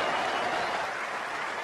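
Sustained crowd applause at an Ashes cricket test match between England and Australia in 2005, a steady dense wash of clapping from a large stadium audience with no pauses.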